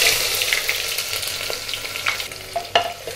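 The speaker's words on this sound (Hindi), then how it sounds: "प्याज को हल्का गुलाबी होने तक तल लें।" Thinly sliced onions fry in hot oil with cloves, cardamom and cinnamon, giving a close continuous sizzle with scattered stirring scrapes and sharp crackles.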